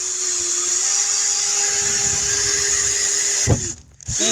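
A power drill, apparently one with a keyless chuck that won't hold its bit, whines steadily and loudly for several seconds before spinning down with a brief clunk.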